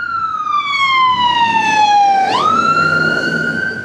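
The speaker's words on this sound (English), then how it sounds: "Excuse the sirens." A Hart County ambulance siren wails loud and close through downtown Horse Cave, Kentucky. Its pitch sags steadily as it approaches, then jumps and holds as it passes by, over the rumble of traffic.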